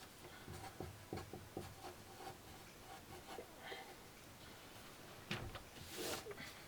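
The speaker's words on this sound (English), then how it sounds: "Half the video is going to be me writing." Pen or pencil writing on paper, a series of soft scratchy strokes and taps in a quiet room, faint and close, with light rubbing between strokes.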